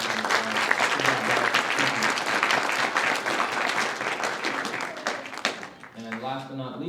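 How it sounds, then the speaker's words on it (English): An audience at a high school and college military speech competition applauds the judges, a dense, sustained wash of clapping that fades near the end as a voice begins speaking. "give them a nice little round of applause for being here"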